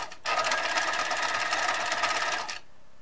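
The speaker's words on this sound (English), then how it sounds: "When I get to the corner points, I'm going to decrease my stitch length to a 1 and pivot" Sewing machine stitching the corner of a men's shirt collar at a short stitch length, a fast steady rattling run of about two seconds, close and loud, then stopping.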